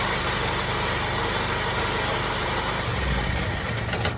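A car engine idles steadily right after the ignition switch is turned on, a continuous low rumble with mild vibration that holds at a constant loudness for about four seconds, with no talking.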